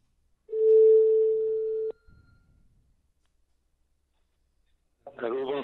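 Steady telephone line tone on a call-in to a live French news broadcast, a single sustained beep ending in a click, followed by a short pause before a voice answers on the line.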